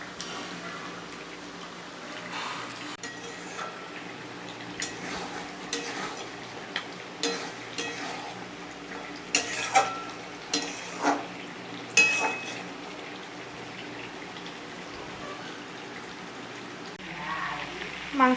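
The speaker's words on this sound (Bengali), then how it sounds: "আর একটুখানি কষে নেব ভালো করে মাংস" Mutton kosha frying in oil in a pot, soft bubbling sizzle with intermittent spoon scrapes and clinks, a cluster of sharper stirring strokes in the middle, fairly quiet overall.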